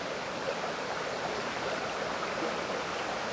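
A river flows steadily nearby, a broad, even hiss of rushing water that stays constant and fairly loud from start to finish, with no voices.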